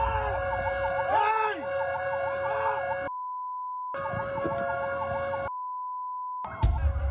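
A wailing fire truck siren sounds loudly in Bacolod City, Philippines, cut by two silent gaps, with a steady tone and traffic noise around it.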